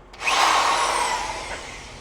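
A power drill whirs up suddenly and runs in a steady, fairly loud high whine that slowly fades, close by, while working on an old Puch sport moped.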